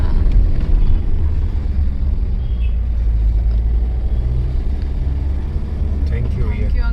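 A car grinds up a steep mountain road near Manali in first gear, a steady strained engine drone heard from inside, with people talking over it.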